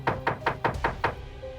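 Six loud, evenly spaced knocks pound on a closed door, close by and sharp, with no voices over them.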